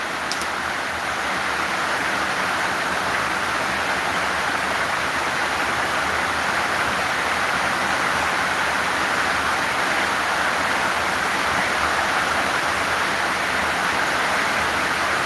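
Heavy rain pours steadily during an outdoor football match between Morocco and Comoros, a dense, loud, unbroken hiss with no talk heard.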